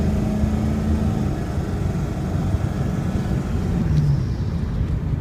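A turbocharged car engine runs steadily and close by, a continuous low rumble with a faint whine, holding an even level throughout without any speech.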